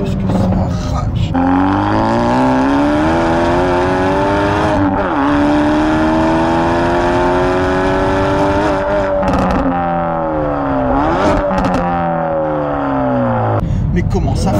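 Hyundai i30 N with a manual gearbox accelerating hard, its loud, close engine note climbing steadily through the revs, with several quick gear changes that briefly drop the pitch before it pulls up again.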